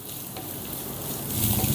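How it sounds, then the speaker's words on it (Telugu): Finely chopped onions frying in hot oil, a steady close sizzle that swells slightly louder toward the end. "ఈ ఉల్లిపాయ ముక్కల్ని ఒక నిమిషం పాటు ఫ్రై చేసుకుందాం"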